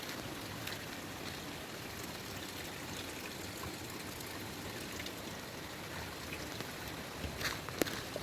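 Mountain stream on a trek out of Gangotri, a continuous rushing wash of flowing water with splashing texture, steady and fairly faint throughout with a few brief ticks near the end.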